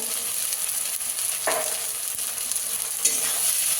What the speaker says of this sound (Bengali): লঙ্কাটাকে কষিয়ে দেবো